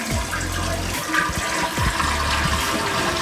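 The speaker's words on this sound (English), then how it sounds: "we want to flush the toilet and get all" A toilet flushes loudly up close, water rushing and gurgling down for a few seconds.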